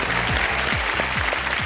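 A studio audience on Kaun Banega Crorepati applauds loudly and steadily, a dense wash of clapping that fills the whole moment while a low rhythmic musical sting pulses underneath.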